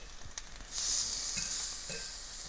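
Turkey sausage sizzling in a skillet, a bright hissing fry that swells as the pieces are flipped, with a few light clinks of a utensil.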